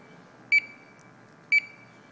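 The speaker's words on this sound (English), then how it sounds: "let it go through its beeping, and once it goes green light, you let go, and now the unit is off" An MSA Altair 5 gas detector beeps while being switched off: two short, sharp electronic chirps about a second apart over a quiet background.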